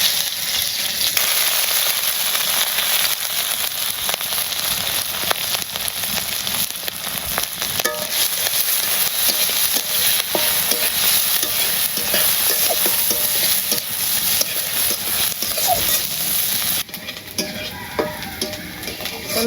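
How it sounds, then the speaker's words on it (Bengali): Spice paste and cumin seeds fry in hot oil in a pan while being stirred, a loud continuous sizzle with scraping stir strokes and occasional utensil clinks, with no talk. "আমার এই যে পেস্টটি ভাজা হয়ে গেছে গা"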